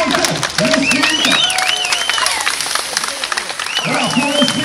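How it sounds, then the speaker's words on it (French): Spectators applaud the peloton sprint at a 2012 women's cycling race in Ussel, France, with scattered clapping and crowd noise mixed under loud announcer talk and whistle-like tones. "Alors pour le sprint du peloton, on applaudit très fort toutes ces concurrentes."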